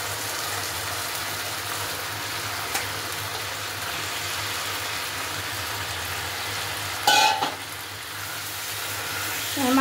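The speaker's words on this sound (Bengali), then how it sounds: "এবার এর মধ্যে আমি মাংসটা দিয়ে দেবো।" Tender goat meat is dropped into a pan of oil-fried spice paste for a curry, with a steady, close sizzle throughout and a sudden louder burst of hissing and clatter near the end.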